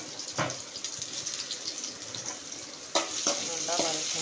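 Fennel seeds and chopped onion fry in a pan, a steady near sizzle with scattered stirring clatters and a sharper burst partway through, the oil crackling continuously throughout.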